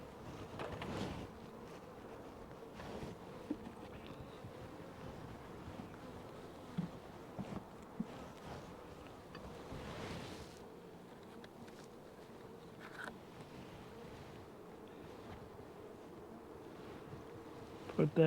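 Honeybees drone at an opened hive during a mite check and queen introduction, a soft continuous buzz with occasional handling knocks and faint wind.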